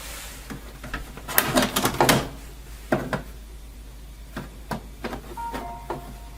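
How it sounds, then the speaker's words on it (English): An HP OfficeJet Pro 8720 printer runs its setup checks, giving off a series of mechanical clicks, clunks and short whirring bursts, close by and moderately loud, with a faint steady hum underneath. "I don't know why there's so much to check, but it's still checking the printer."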